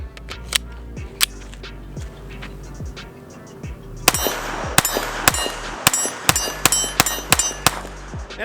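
A Sig Sauer P322 pistol fires a magazine of Aguila rounds, a string of sharp, loud shots, sparse at first and then in rapid succession, with no talking.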